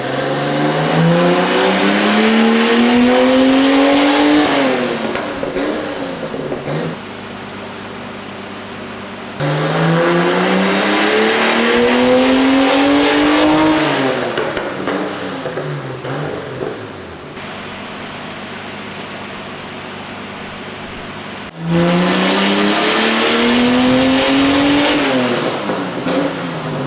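A turbocharged Nissan Skyline R32 with boost held around 10 psi makes three loud, close full-throttle pulls. Engine pitch climbs steadily through each run before dropping back to a lower drone.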